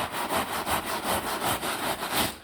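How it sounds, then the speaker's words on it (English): A stiff brush scrubs 3M foaming car interior cleaner into heavily soiled fabric upholstery on a sofa, making steady, rhythmic back-and-forth rasping strokes, close and fairly loud, with no talking. "I'm going to start using this brush to just rub the foam nicely along the impacted surface"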